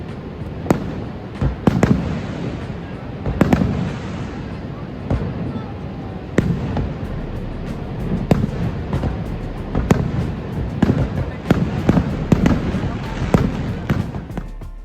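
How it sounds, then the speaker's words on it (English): Fireworks bursting outdoors at night at Niagara Falls, a series of sharp booms and crackles at irregular intervals, with a crowd murmuring in the background. "we again went back to enjoy the night lights and fireworks"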